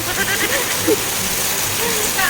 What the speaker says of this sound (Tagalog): lakas ng ulan.